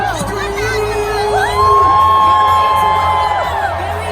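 A huge crowd at the Singapore National Day Parade 2019 screams, whoops and cheers, loud and sustained, swelling midway, with children's shrill shouts and a whistling tone above the roar.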